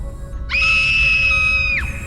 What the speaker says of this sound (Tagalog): Ba't ka sumisigaw?